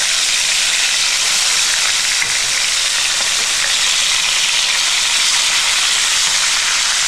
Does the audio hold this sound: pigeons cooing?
no